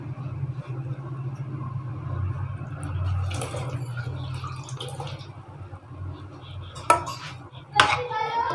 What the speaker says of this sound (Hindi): सालन हमारा रेडी हो चुका है। इसको डिश आउट कर लेते हैं।